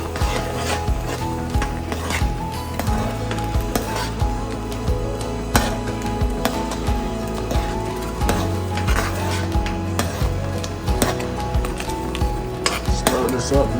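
A spoon stirs Jamaican curry liver with coconut powder in a pot, with repeated clanks and scrapes against the metal over a continuous background of music, loud and close.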